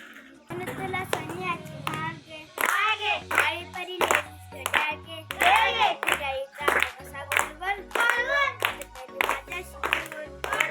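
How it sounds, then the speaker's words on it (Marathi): People clap in short, rhythmic bursts at a child's birthday celebration, close by and mixed with singing and children's voices. "टाळ्या वाजवा सगळ्यांनी"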